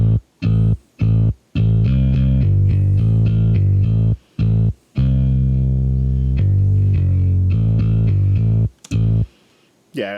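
Bass guitar run through an Ampeg SVT amp simulation into a Fractal unit with a bass impulse response, giving a vintage classic-rock tone; a loud, distorted riff of choppy repeated notes with short gaps, alone.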